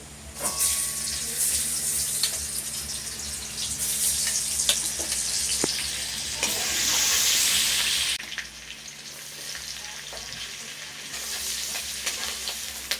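Chopped garlic fries in a mix of butter and oil with a loud, continuous hiss, punctuated by scrapes and taps of a stirring utensil, swelling briefly before easing back.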